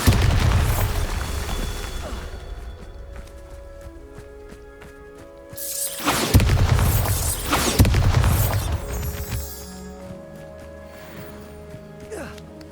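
A Bombarda spell detonates in Hogwarts Legacy, with heavy booming blasts that swell loudly and roll out across the scene amid game sounds.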